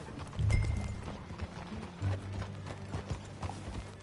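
Horse hooves clip-clop at a riding pace in Red Dead Redemption 2, a faint, rhythmic patter of steps over low rumbling and mechanical clicking.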